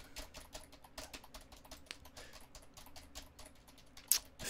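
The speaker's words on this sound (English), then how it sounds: "only hearing the typing out of one ear or the other" Steady, rapid typing on a computer keyboard, close and fairly quiet, with dense overlapping keystrokes and one sharper clack near the end, no voices.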